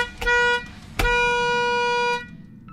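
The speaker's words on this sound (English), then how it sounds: "Wolfface began laying on the horn." A car horn blares loud and close in two blasts, a short honk followed after a brief gap by a long sustained one lasting over a second, with no voices.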